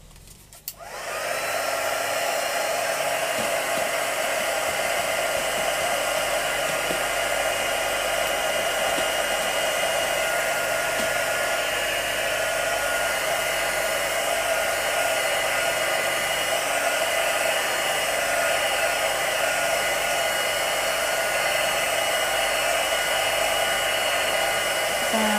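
A hair dryer switches on and runs steadily at close range, a loud, even whir that holds unchanged for the rest of the time while drying off freshly prepped pieces.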